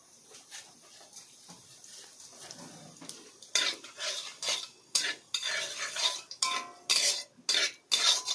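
Whole garam masala and cumin seeds temper in hot mustard oil in a kadai. The start is quiet, then repeated loud metal scraping strokes come with a light sizzle underneath.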